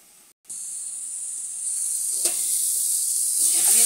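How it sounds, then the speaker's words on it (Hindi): Tomatoes roasting in a covered pan on a stove give a steady, loud hissing sizzle that swells gradually, with a brief crackle partway through and no talking. "अब ये देखिए टमाटर अच्छे से भुन गया"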